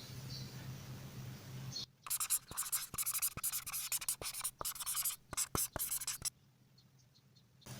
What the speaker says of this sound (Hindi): चलें फिर इसको लिखते हैं।